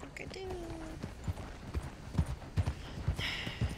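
Horses walk in the Western video game Red Dead, irregular hoof thuds sounding close but soft beneath other in-game sounds and a brief tonal call near the start.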